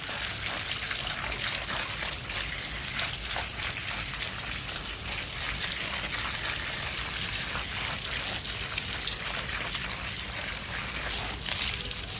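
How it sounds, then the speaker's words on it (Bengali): Light drizzling rain falls steadily over a rooftop vegetable garden, a soft, continuous patter and trickle with no pauses, close and even throughout, with no one speaking. "এখনও গুড়ি গুড়ি বৃষ্টি পড়তেছে"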